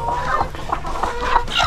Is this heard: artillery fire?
no